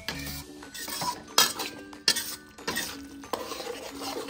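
Bumbu spices and Javanese long pepper are stirred in a cooking pan with a utensil, giving close, repeated scraping strokes and sharp metallic clinks against the pan, with a faint sizzle underneath.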